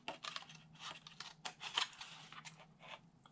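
Scissors angle-cutting card for an Easter basket box, a close series of quick crisp snips and papery crinkles in an uneven rhythm, faint overall.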